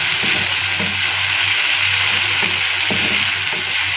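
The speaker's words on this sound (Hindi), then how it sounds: "शामिल करने लगी हूँ इसमें 2 टेबल स्पून लहसुन का पेस्ट। थोड़ा सा इसको हम पका लेंगे" Two tablespoons of garlic paste frying in a pan for a dhaba-style bhindi fry: a dense, loud, continuous sizzle with faint stirring scrapes, close up and with no talking.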